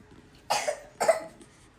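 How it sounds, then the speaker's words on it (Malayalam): Two sharp coughs from a child with a cold, about half a second apart, close and fairly loud, with quiet in between and no talking. "അല്ലെങ്കിൽ ഇതേപോലെ ചുമച്ചോണ്ടിരിക്കും"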